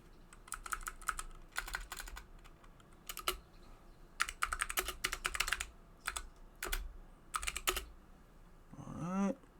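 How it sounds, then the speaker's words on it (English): Rapid bursts of typing on a computer keyboard, close and crisp, with clusters of key clicks separated by short pauses, then a brief higher squeak at the end. "I know everybody likes the sounds of my keyboard."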